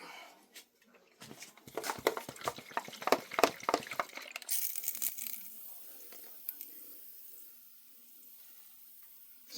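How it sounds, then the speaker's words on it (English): A hand pump sprayer mists water onto cardboard in a worm bin, a quick run of sharp, close spritzes followed by a quieter tail of dripping and settling. "let me put some water on. Let me spray that cardboard."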